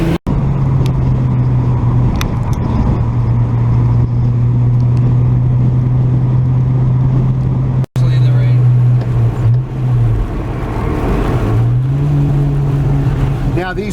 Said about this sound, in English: I just prod the gas and this thing takes off